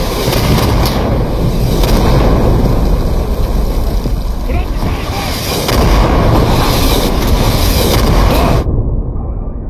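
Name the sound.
artillery barrage in a video game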